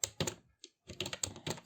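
Keystrokes on a computer keyboard while Python code is typed, a quick run of close, crisp taps in short bursts with a brief pause midway.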